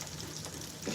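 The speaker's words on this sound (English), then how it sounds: "I'm frying some fish." Quiet, steady sizzling of pollock frying in a pan, a soft continuous crackle with no talking.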